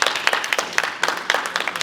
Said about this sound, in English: Everyone's giving a round of applause.